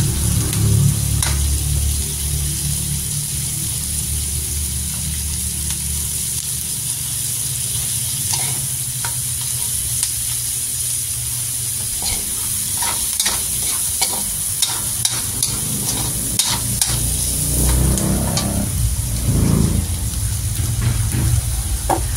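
Shrimp heads sauté in a hot pan, a continuous loud sizzle broken by repeated scraping stirs of a utensil against the pan throughout.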